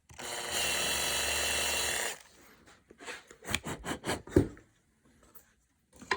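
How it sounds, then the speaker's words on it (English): Power drill boring a pilot hole into wood for a brass hinge screw, a steady two-second whir followed by quieter scraping and handling clicks, no talk. "And drill this pilot hole."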